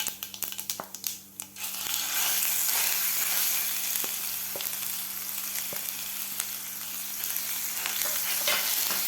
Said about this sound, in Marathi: जिरे मोहरी व्यवस्थित आपली फ्राय झालेली आहे, तर त्यामध्ये घालायचा आपल्याला आता हा मसाला।